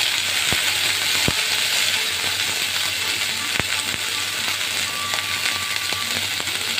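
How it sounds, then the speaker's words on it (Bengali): Beans and vegetable stalks frying in a pan, a steady close hiss with a few sharp clicks of a spatula scraping and stirring, no voices. "এগুলোকে একসঙ্গে নেড়ে চেড়ে একটু ভেজে নেব।"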